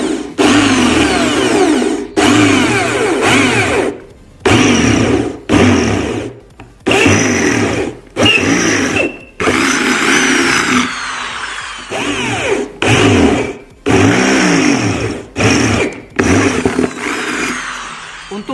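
A Bosch GSB 550 electric drill runs in repeated bursts of a few seconds each, with short pauses between them. It whirs loud and close with a steady motor whine, and no voices are heard.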